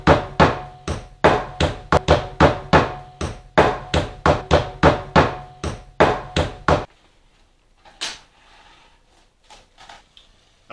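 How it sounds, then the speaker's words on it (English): A rubber mallet pounds meat for schnitzel, about fifteen evenly spaced dull thuds close up over seven seconds, followed by quieter handling noises and one more faint knock. "he never bought a meat mallet, but he did have this out in the workshop. It's a rubber mallet, and it works fine"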